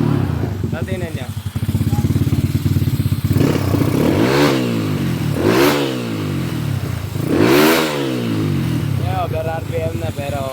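A motorcycle engine, its drive belt failing to ride fully up the pulley, revs hard three times to over RPM, each rev rising and falling over a steady loud idle, with someone talking over it.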